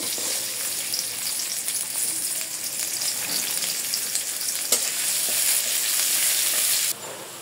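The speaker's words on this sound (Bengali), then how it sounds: "পেঁয়াজ কুচা দিয়ে দেবো আধা কাপের মতো" Chopped onion, about half a cup, sizzling in hot oil in a heated wok, a loud, continuous frying hiss with faint stirring scrapes throughout, dropping away abruptly near the end.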